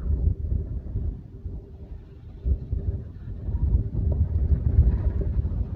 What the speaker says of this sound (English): Sorry about the camera shake, wind's getting up.